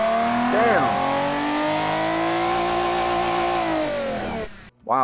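A VTEC car engine in the BeamNG video game revs up high and holds a steady, buzzing wail for several seconds before cutting off abruptly, followed by a short rev blip.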